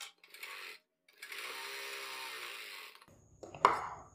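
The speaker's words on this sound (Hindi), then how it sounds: "अपनी ऊपर वाली आस्तीन लेंगे ये वाली और जो ये मार्जिन का हमारा निशान लगा है इस पे सेम सिलाई हम लगा देंगे" A sewing machine stitches a sleeve seam on a kurti in two quiet bursts of steady whirring, each stopping after a few seconds, then a faint clack and handling noise as the run ends.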